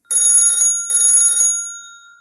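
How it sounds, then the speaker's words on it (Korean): Ringtone of an incoming call in the Mystic Messenger game: two bright, loud warbling rings separated by a short gap, the last one trailing off in a fading tone, nothing else audible. "전화벨이 울리고 있어."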